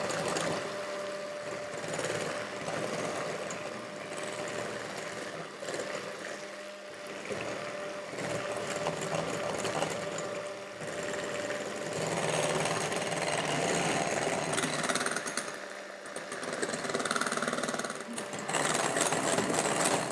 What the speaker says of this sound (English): So we've got our 4 large eggs in there and our sugar straight in and whisk until